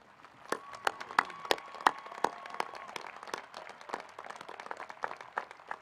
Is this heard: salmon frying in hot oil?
no